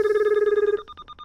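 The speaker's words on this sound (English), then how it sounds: "you need to answer the phone" A telephone rings during an Among Us proximity chat game: a steady electronic bell tone for most of the clip, then stuttering pulses as it cuts off, loud and clear with no talk over it.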